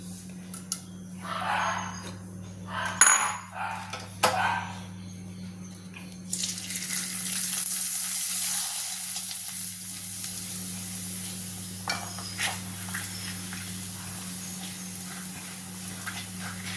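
Tapioca pappadam frying in very hot oil, a steady sizzle that swells after a few louder clatters and runs on continuously at close range.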